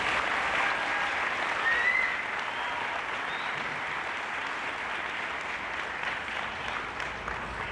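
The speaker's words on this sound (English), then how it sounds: "So please give them a round of applause." At a middle school graduation ceremony, a large audience applauds teachers with steady, sustained clapping that stays even and moderately loud across nearly eight seconds, a faint whistle briefly rising above it.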